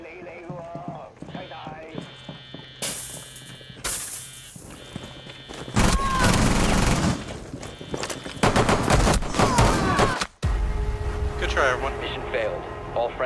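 Gunfire in Rainbow Six Siege, a tactical shooter, plays on the Park map in team deathmatch: bursts of automatic fire and single shots crack loudly over other in-game effects while players talk.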